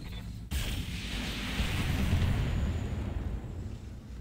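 Mech weapons fire in the BattleTech video game, opening with a sharp blast followed by a heavy, rumbling barrage of explosions that rolls on for several seconds.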